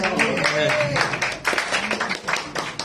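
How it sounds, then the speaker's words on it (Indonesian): An audience at a political party launch event claps in uneven bursts, loud and close, with voices and cheers mixed through the applause. "Tepuk tangannya sekali lagi dong."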